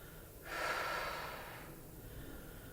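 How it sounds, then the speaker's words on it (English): A single loud breath, a sharp exhale or snort, comes during a balance and leg strength lunge exercise, then fades into quieter breathing and room noise. "Breathing."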